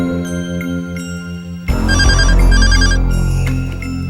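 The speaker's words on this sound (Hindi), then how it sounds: "ये रजन लाल का फोन तो अभी तक आ जाना चाहिए था।" A telephone rings loudly and steadily with a repeating electronic trill, heard alone with no talk, as a call arrives at a tense moment in a Hindi drama serial.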